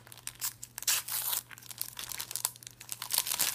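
Crisp crinkling and tearing of paper and tape as a birthday gift package is pulled open, steady close-up rustling with sharp rips, quiet and without voices.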